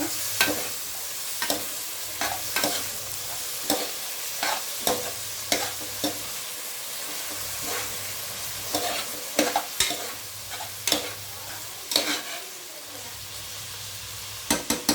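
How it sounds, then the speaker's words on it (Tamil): Green chilies stirred with onions in a frying pan, with repeated sharp spatula scrapes and clinks over a continuous low sizzle, close up and steady throughout. "நல்லா இதை மிக்ஸ் பண்ணிக்கலாம் இந்த ஆனியனோட"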